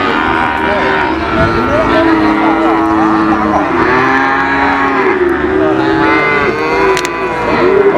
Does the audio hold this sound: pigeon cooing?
no